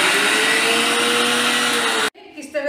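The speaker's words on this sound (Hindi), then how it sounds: "हम इस दाल को मिक्सर में सबसे पहले ग्राइंड कर लेंगे" Electric kitchen mixer grinding dal, a loud steady whirring drone that runs for about two seconds and then cuts off abruptly, after which a voice begins.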